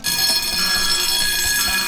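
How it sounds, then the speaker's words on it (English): A harsh electronic security alarm, triggered by a body-heat sensor, sounds continuously, a bright buzzing tone with steady high pitched whine, loud and close. "the alarm starts to sizzle"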